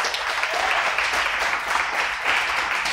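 A church congregation applauding during a Portuguese-language service, a steady, fairly loud wash of clapping hands lasting a few seconds with no speech over it.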